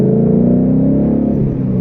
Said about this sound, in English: As you can hear, I have a Roush Axleback exhaust system on this car